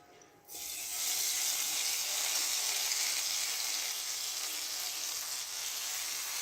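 A loud, steady sizzling hiss starts abruptly and continues unbroken as hot oil tempering is poured into kadhi pakora curry in a pan.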